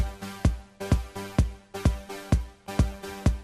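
A four-on-the-floor kick pattern programmed in FL Studio for a dirty Dutch house drop, with punchy regular kicks and an offbeat pad pumping between them, loud and repetitive with no voices.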